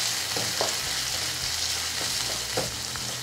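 Onions sauté on high flame with cumin and pepper for a keerai kuzhambu, a dense steady sizzle with a few soft stirring knocks.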